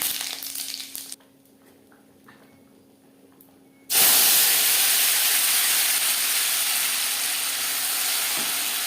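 Cumin seeds and dried red chillies hit two spoons of hot refined oil for a Bengali lau moong dal tempering, bursting into a loud, sudden sizzling hiss that holds steady after a quieter lead-in.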